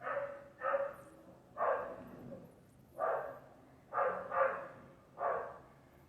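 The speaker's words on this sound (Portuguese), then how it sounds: "Estão ouvindo meu cachorro?" A dog barks in a series of about eight distinct barks, some doubled, heard at a moderate distance with quiet between them and no talking.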